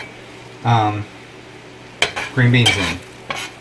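Chopped garlic and dried onions stir and sizzle in a pan while browning, with soft scraping and clinks of a utensil between brief bits of talk.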